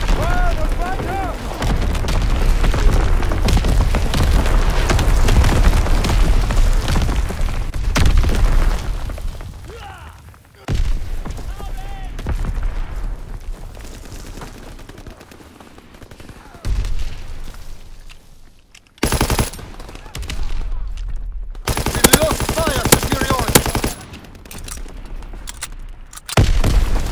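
Artillery barrage explosions and gunfire in the Call of Duty: WWII online game: loud booms and rattling volleys come in dense waves, then shorter separate blasts and bursts, with radio-style voices talking over the battle at times.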